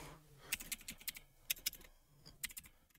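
Typing Python code on a computer keyboard, irregular bursts of crisp clicking keystrokes in two clusters separated by a short pause, close and fairly quiet, with no talking.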